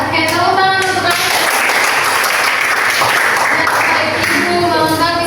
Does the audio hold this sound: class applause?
yes